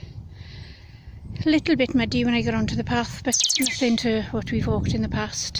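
A short, high electronic chirp from a phone notification sounds once near the start, then a person talks outdoors on a mountain path above allotments in the Rhondda, Wales.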